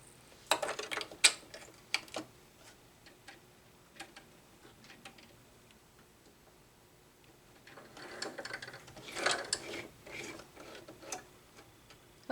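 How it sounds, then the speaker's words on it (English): A sewing machine running with a fresh bobbin makes bursts of quick ticking stitches. One busy run comes early, a quieter gap follows, then a second run. The sound is close and moderately soft, with no talk. "I'm switching bobbins."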